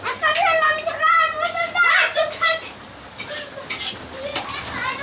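Spicy red chicken sizzles in a pan as it is stirred, with scraping and frying noise running beneath a child's chatter throughout.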